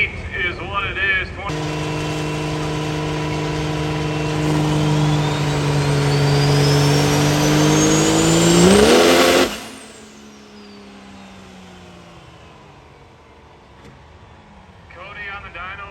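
A car engine revs hard on a dyno at a burnout event, a loud sustained roar climbing steadily in pitch for about eight seconds before cutting off abruptly, with voices talking over it and afterward.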